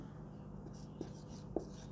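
A pen writes a math solution by hand, faint scratching with a couple of soft taps against a quiet background.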